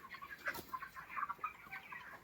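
Broiler chickens cluck continuously in a poultry farm shed, a soft, busy chorus of overlapping calls heard at low volume with no talking.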